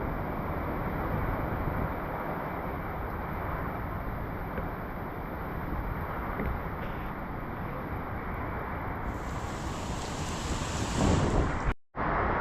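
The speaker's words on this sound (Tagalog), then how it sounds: "Ayan na po yung tubig." Heavy rushing floodwater and strong wind buffet the microphone during Typhoon Uwan as water flows into a house, a steady loud roar throughout with a brief dropout near the end.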